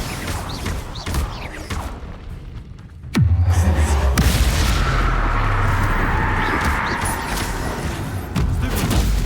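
A Confringo blasting spell explodes in Hogwarts Legacy, a sudden loud boom that breaks a quieter stretch and leaves a long rumbling roar with crackling debris continuing close by.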